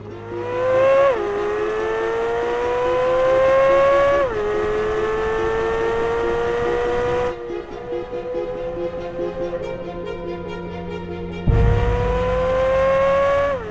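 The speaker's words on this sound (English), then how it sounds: "This car goes so fast, so easily, and the ability to just kind of handle the car on this track is pretty unheard of." A Chevrolet Corvette Z06 screams around a race track, its engine climbing through the revs in long pulls with sharp drops at each upshift, loud and close throughout.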